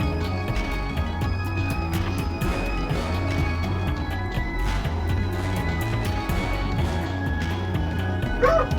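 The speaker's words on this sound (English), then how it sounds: "dogs will be barking a lot in my background" Dogs bark repeatedly in the background behind a busy, continuous bed of game sound in Vintage Story.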